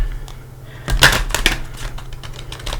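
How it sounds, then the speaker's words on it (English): Rapid papery riffling of tarot cards being shuffled, a dense burst of crisp flicks and slaps lasting about two seconds, close and fairly loud. "I like to give it a shuffle with you here too"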